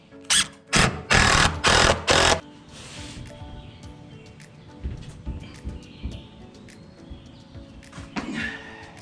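A 2.5-inch screw is driven into a 2x4 for an under-deck roof frame, heard as a few loud, close mechanical bursts in quick succession, followed by a quieter outdoor background.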